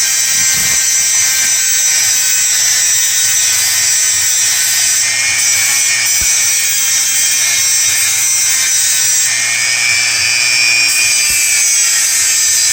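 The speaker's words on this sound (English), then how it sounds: "I'm going to go ahead and clean up the bottoms of those with just the edge of my disc. I'm not really cutting anything off. I'm just gently grinding." The edge of a disc grinds gently along brass parts of a 1/24 scale slot car chassis, a steady close, bright whine that holds for the whole stretch, with a few faint low knocks and no talking.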